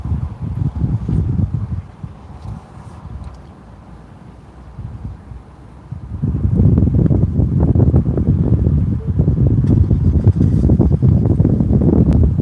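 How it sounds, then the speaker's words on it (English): Steady wind blowing against the microphone during storm chasing in Virginia, moderate at first, then growing louder and gustier halfway through, with rough low rumbling and no voices. "Sounds windy here. The wind's picking up a little bit."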